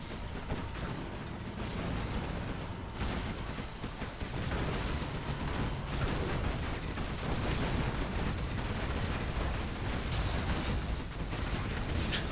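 Quad cannons in a real-time strategy game unleash dense, continuous volleys of gunfire and explosions in a tournament 1v1 match, loud and unbroken throughout.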